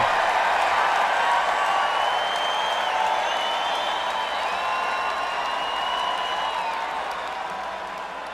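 Recorded concert applause after a live performance, a dense steady roar of clapping with scattered whoops and whistles that slowly fades toward the end.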